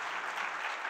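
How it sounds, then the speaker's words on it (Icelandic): Audience applause at a speaking event in Iceland, a steady wash of many hands clapping that stays level and fairly soft, heard alone without voices over it. "Þið megið alveg klappa, takk fyrir."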